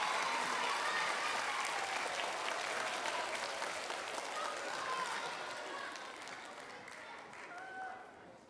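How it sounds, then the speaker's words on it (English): An audience at a College of Education book award event gives a sustained round of applause. Dense crowd clapping runs loud and steady, then slowly thins and fades toward the end. "Can we give a round of applause for Pedro?"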